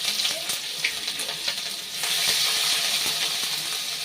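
Grated ginger sizzles in the hot tempering for sama rice khichdi, a steady crackling fry that surges louder and denser halfway through and stays strong to the end.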